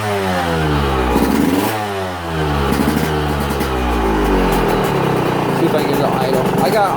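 A dirt bike engine idles and burbles close by, its low throbbing running steadily throughout, with a few slight rises in revs.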